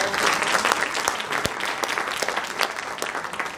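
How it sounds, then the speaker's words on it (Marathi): An audience at a lecture series claps in a dense burst of applause, loud and close, with individual claps audible and no speech over it. "एकदा ताईंसाठी जोरदार टाळ्या."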